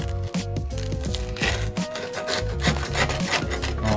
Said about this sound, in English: Listen to that crust when I slice it.